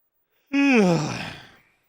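A single human yawn, close and fairly loud, rising with a strained voiced onset and slowly fading out over about a second into a breathy sigh, with silence before and after.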